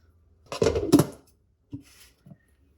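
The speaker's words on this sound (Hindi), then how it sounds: "और यहाँ पे मैं थोड़ा सा पानी ऐड कर दूंगी।" A little water added to chopped chutney ingredients of garlic, green chilli, mint and coriander: a short, close splash and clatter at the bowl, followed by two faint knocks, with no speech.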